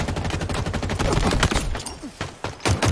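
Halo Infinite multiplayer gunfire rattles in dense, overlapping volleys of close shots, with quieter gaps and a few sharp single cracks toward the end.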